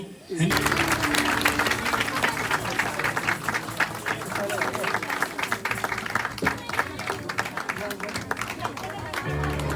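Applause and clapping from a crowd at a family Christmas gathering, dense and sustained for nearly ten seconds, with loud broadband claps over a murmur of voices and background music.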